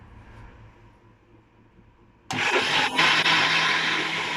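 Kitchen blender whirs into action on strawberry milkshake with honey, bursting on abruptly after quiet and holding a loud, steady motor roar close by, with a brief pitch shift midway.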